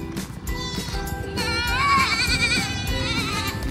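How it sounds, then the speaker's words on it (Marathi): A goat lets out a wavering bleat of about a second near the middle, close by, with outdoor voices and bustle underneath. "जॅकला येतोय बकरीचा आवाज"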